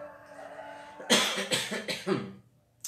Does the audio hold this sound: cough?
yes